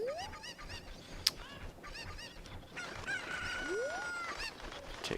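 Cucco chickens in the video game The Legend of Zelda: Ocarina of Time, with several short squawks, clucks and rising cries scattered over faint background game audio.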